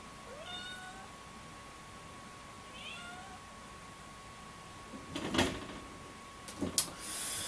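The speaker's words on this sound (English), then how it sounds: "There's a cat wanting to come in." A cat meows a few times at a door in short, rising cries, followed by scratching and knocking sounds nearby; otherwise quiet with a steady faint hum.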